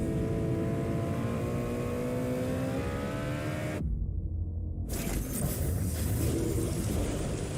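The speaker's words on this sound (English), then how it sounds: "The 201 horsepower turbocharged Kia Forte GT." A turbocharged 201-horsepower Kia Forte GT engine revs and accelerates in a steady, loud rumble with rising harmonic tones, cut by a brief near-silent gap before the engine roar resumes.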